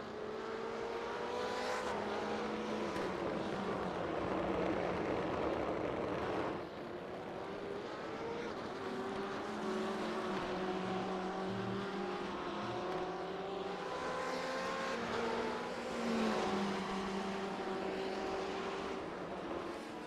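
Several racing cars in a sportscar racing video game at the Nurburgring run together in succession, their engines droning and shifting pitch as they pass in a continuous, loud mechanical roar.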